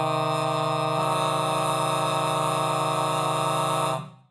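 Several singers hold a dissonant diminished triad, a steady sustained chord that thickens as a voice enters about a second in, then cuts off cleanly after four seconds, with no talk.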